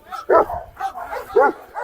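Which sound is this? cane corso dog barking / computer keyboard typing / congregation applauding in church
cane corso dog barking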